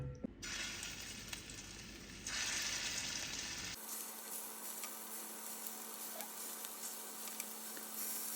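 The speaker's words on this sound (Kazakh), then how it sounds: "Енді қазір осыны қуырып пісіретін боламыз. Майымызды құйып аламыз." Meatballs frying in a layer of oil in a pan over medium heat, a steady loud crackling sizzle throughout with occasional clicks and scrapes of turning, no voices.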